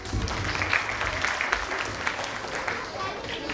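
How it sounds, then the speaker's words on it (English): A summit audience applauds to welcome a delegate from Rio de Janeiro, Brazil, a dense, steady wash of clapping filling the room from start to finish, with a voice faintly under the clapping. "Let's welcome her with a huge round of applause."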